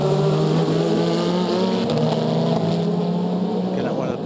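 LMP2 prototype race cars and a Peugeot Hypercar race at the 24 Hours of Le Mans 2023, engines droning steadily and loudly together at high pitch with faint commentary underneath.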